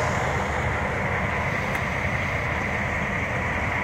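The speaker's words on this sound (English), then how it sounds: "it's not the quietest rest area because, you know," Highway traffic from I-94 beside a rest area at sunrise, a constant broad roar of passing vehicles that stays loud and even with no distinct events.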